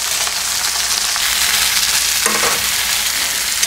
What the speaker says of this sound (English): As soon as these things sear correctly and completely, they'll lift right off.